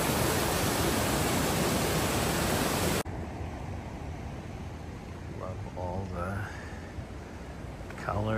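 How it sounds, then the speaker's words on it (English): Waterfall in wintry Kosovo countryside, a steady loud rush of falling water that drops off sharply partway through to a softer, distant roar, with faint whistling tones above it. "Here's another waterfall."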